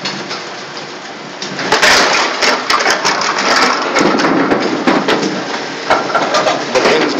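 A Bowl Mor Model E candlepin pinsetter resets its pins with loud mechanical clattering, rattling and knocking over a steady machine hum, growing busier after the first couple of seconds.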